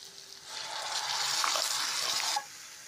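Green chili and curry leaves sautéing in a pan for a kuzhambu lunch, a steady broad sizzle with faint stirring that swells after a quiet start, holds for about two seconds, then drops off.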